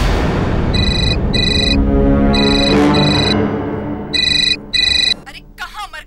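Telephone ringing in a CID crime drama scene, bursts of an electronic ringtone repeating in short pairs over background dialogue and music, ending with a voice.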